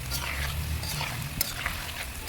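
Potato crisps fry steadily in hot oil, a dense continuous sizzle with a low bubbling rumble underneath, close and fairly loud, with a couple of brief clicks near the end.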